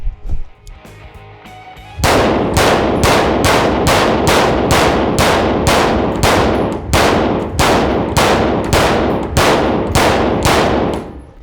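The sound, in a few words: AR-15 rifle firing a full magazine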